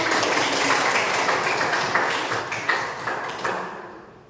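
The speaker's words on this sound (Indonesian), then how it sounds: "Kita berikan aplaus" An audience in a classroom lesson applauds, producing a dense, even patter of many hands clapping at moderate distance that gradually thins out and stops near the end.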